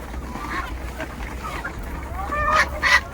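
Geese, ducks and chickens crowd and jostle at a feeder on a country poultry farm, giving scattered honks and quacks over steady low rumble, with a louder burst of calls near the end.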